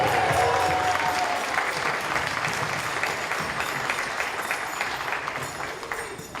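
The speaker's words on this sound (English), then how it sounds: "Just one last applause for Sean" Wedding reception guests applauding together in a hall, a steady dense wash of clapping that starts full and slowly tapers off toward the end.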